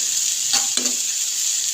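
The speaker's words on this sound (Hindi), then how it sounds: "सारी सब्जियों को 1 से 2 मिनट हम रोस्ट करेंगे यहाँ पे" Chopped vegetables and crushed potato sauté and get stirred in a hot pan for a savory breakfast dish, giving a steady bright sizzle with a couple of brief scraping stirs near the middle.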